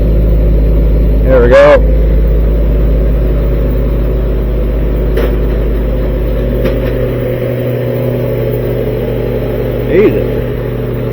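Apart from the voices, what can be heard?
1943 Army Jeep engine running, throttle adjusted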